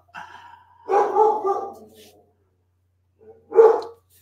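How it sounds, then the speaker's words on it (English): Dogs indoors bark at a window, a few loud, close woofs and yips in bursts separated by a quiet gap, with no talk over them. "They act really tough because they're at the window barking at them"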